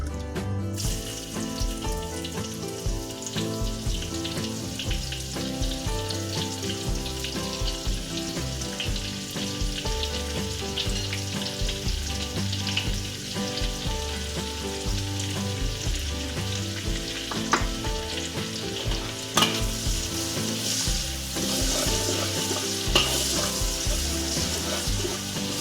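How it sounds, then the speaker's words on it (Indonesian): Shallots and garlic frying in a pan for soto ayam, a loud, steady crackling sizzle that runs close and unbroken, with occasional stirring clicks and no voices. "Kita goreng bawang merah,"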